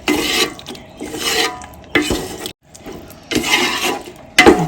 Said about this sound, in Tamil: நல்லா மிக்ஸ் பண்ணணும். எல்லாம் ஃபுல்லாக மிக்ஸ் பண்ணணும்.